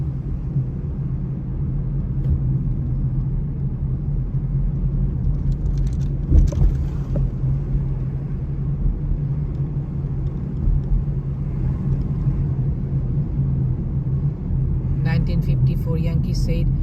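Steady low rumble of city car traffic in New York City, between Brooklyn and Staten Island over the Verrazzano Narrows Bridge, a continuous drone with a brief louder swell midway and some faint background noise near the end.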